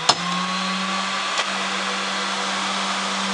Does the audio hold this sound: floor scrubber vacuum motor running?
yes